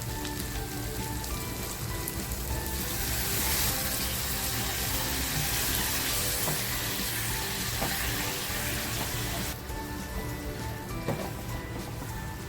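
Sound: water poured into sizzling pan

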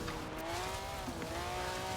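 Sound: car accelerating in Forza Horizon 4 video game

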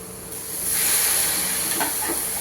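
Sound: boiled banana stem sautéing in a pan

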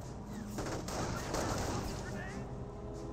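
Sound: MG42 machine gun suppressive fire, Company of Heroes video game

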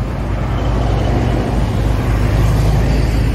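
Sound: cars passing by on a busy road

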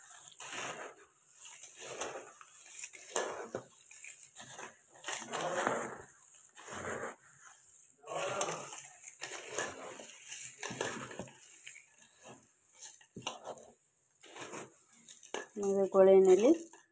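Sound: mixing ingredients in a bowl

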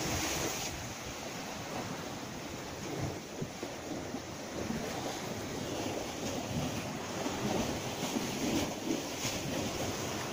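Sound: sea waves on the shore

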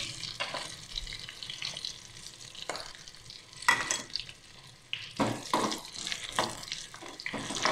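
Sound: black pepper frying in a pan

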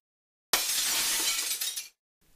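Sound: glass shattering as a drunk driver's car hits a shop window

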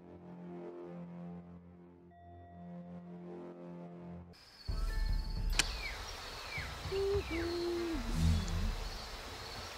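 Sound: bird call in the video game Shadow Tactics: Blades of the Shogun

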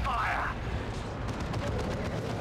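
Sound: units opening fire in the video game Warhammer 40K: Dawn of War 2 Retribution

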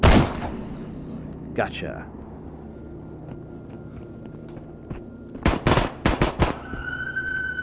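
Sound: gunfire from a gun in a Quest 2 VR video game

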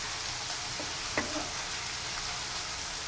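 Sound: onions frying in oil

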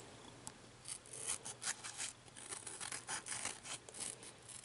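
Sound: scissors trimming around vinyl decal

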